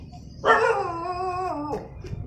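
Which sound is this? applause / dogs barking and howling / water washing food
dogs barking and howling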